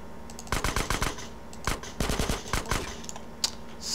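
A combat shotgun fires in GTA San Andreas as a series of sharp, close blasts, some fired in quick clusters and others spaced apart, over a low background hum, with no talk.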